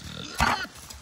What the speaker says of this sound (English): That's like super not friendly pig behavior.